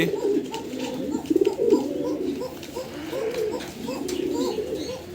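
Pigeons, a pair of Lavender Chuachandan birds, coo inside a cardboard carton packed for delivery: repeated low, rolling coos close by, one after another, over faint rustling.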